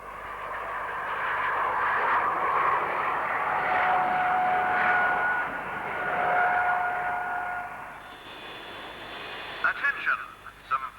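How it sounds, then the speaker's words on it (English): A Japanese YS-11A 60-seat turboprop airliner with its starboard Dart engine feathered makes a low airshow flyover, a steady engine drone with a whining tone that swells and fades over several seconds before brief crackles. "Stability is demonstrated by a flyover with a feathered starboard dart engine."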